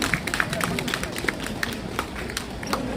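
Audience clapping at a Korean political rally as a co-representative is welcomed, scattered claps over a steady crowd hubbub.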